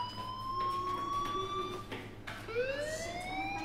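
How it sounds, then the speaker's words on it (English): A fire alarm in the video game Life is Strange wails in rising, siren-like sweeps, with two long climbing tones that carry bright harmonics and stay steady and prominent throughout. "Hey, do you hear that fire alarm?"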